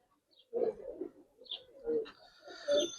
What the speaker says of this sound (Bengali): এটা আমার ঘরের ঘরের কবুতর ভাই আর বাসা উড়ানো কবুতর